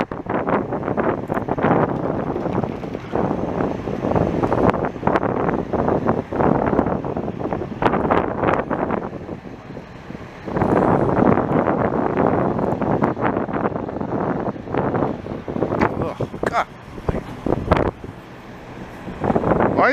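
Gusty wind buffets a microphone outdoors on a city street during a fire department response, a loud, continuous rumbling roar that surges and dips in waves for the whole stretch, with no talk.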